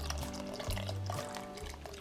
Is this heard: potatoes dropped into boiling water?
yes